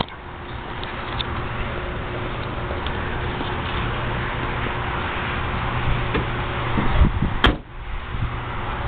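A Chevrolet Cruze's car door is shut once near the end, a single solid thud standing out from a steady background hiss.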